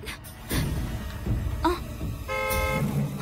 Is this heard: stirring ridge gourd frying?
no